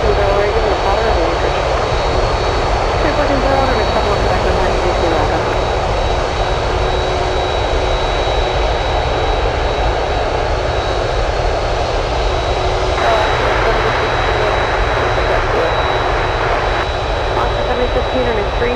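Airport ground noise at Anchorage, with a Boeing 747 taxiing: a loud, steady jet engine rumble and whine continues throughout, with a thin high tone over it.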